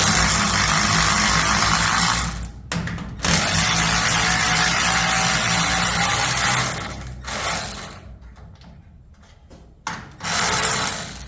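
Garage door bolts are loosened with a power tool: loud, sustained whirring and ratcheting bursts with brief pauses between them, close and dominant, ending in shorter spurts.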